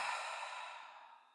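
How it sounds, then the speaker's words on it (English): A single slow exhale during a guided breathing exercise, soft and airy, starting close and steady, then gently fading over about a second and a half with no talking. "In through the nose and out through the mouth, breathing in."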